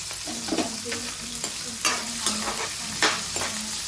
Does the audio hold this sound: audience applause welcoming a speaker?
no